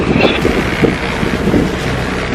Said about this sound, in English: Wind's got up to about 30 odd knots really quickly